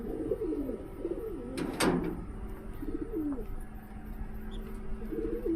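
Pigeons coo softly in short, low phrases against a faint background hum, with a brief sharp knock near the two-second mark.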